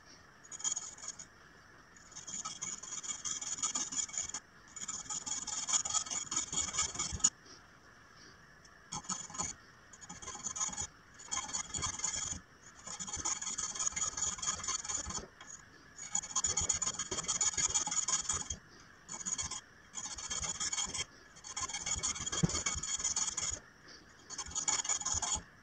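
Metal file rasping on a part for a bungee strap on a dive computer, in repeated bursts of steady back-and-forth strokes separated by short pauses, close and clear with no talk.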